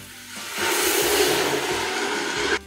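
Stock is poured into a pressure cooker of sautéing risotto, bringing a steady broad hiss and sizzle that swells after a quiet start and holds close and even before cutting off near the end.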